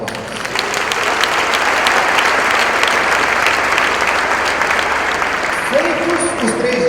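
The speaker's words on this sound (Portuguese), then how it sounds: "Dá um aplauso aos irmãos." Church congregation at a Sunday service breaks into loud, dense applause that holds steady for about seven seconds, with a voice rising faintly near the end.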